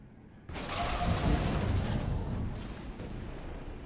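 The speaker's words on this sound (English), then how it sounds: "I'm going to be shooting bullets at you the entire time" An armored mech in Armored Core 6 opens up with sustained, heavy machine-gun style fire that begins suddenly after a short quiet and rumbles loudly for several seconds before tapering slightly.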